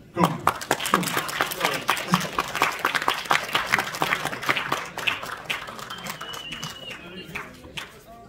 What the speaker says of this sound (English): Can I have a big applause for the director, Jae Sung, and the actors and actresses